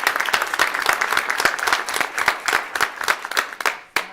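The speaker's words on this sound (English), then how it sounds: "So let's have a round of applause for all of you." A school board meeting audience of families and students gives a sustained round of applause. Many hands clap in a steady, full wash that thins slightly before stopping near the end.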